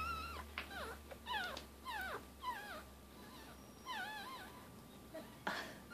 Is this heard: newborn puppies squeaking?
yes